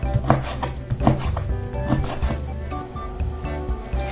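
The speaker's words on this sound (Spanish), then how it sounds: "Y ahora sí, cortamos nuestras tiras." A knife cuts corn tortillas into strips on a board, a series of close, uneven chopping taps and scraping cuts in quick succession.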